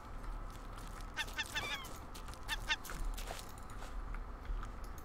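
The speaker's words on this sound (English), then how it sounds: "I'm getting this bird." A bird in the survival game Raft calls in a few short, honking bursts, moderately close over a steady low ambient hum, with no talking.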